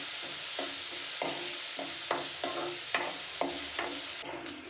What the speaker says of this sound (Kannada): ಈರುಳ್ಳಿ ಹಾಕಿ ಈರುಳ್ಳಿನ ಫ್ರೈ ಮಾಡ್ಕೊಳ್ಳಿ ಸ್ವಲ್ಪ ಹೊತ್ತು